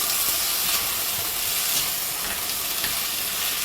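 Carrot, potato and peas sautéing in a pan, a continuous hissing sizzle at steady moderate loudness with faint stirring scrapes.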